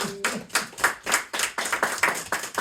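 At a live comedy magic show, a few hands clap in a slow, distinct rhythm, each clap clearly separated, sounding more like a small group or a single clapper than a full crowd.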